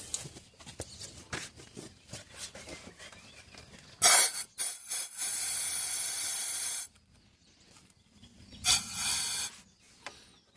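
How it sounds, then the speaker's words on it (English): Air compressor running in a workshop during small engine servicing, heard as loud steady hissing bursts of air, one lasting a few seconds and a shorter one later, amid scraping and handling sounds. "That's the compressor, of course."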